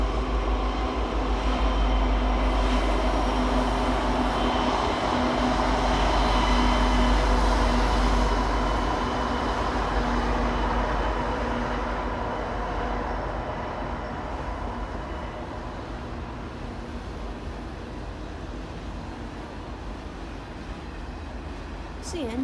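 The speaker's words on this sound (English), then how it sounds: "The only reason I was out in 15-degree weather was to see Canadian National Q116 with GECX 2037 trailing second" Canadian National Q116, a daily auto-rack and intermodal freight led past with GE locomotive GECX 2037 trailing second, rumbles by steadily in cold winter air, a loud continuous roll of cars and wheels that slowly eases.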